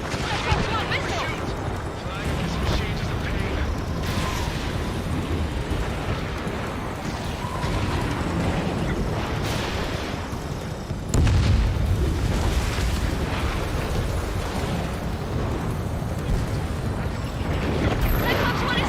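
Booms and blasts from a jet fighter dogfight in the video game Ace Combat 7, a missile striking a fighter jet amid continuous engine roar, with radio-style voices talking over the action.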